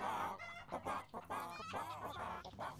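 Several chickens cluck and squawk in a busy, overlapping chorus, loud and close, with a rooster-like call mixed in, in the video game Fable III.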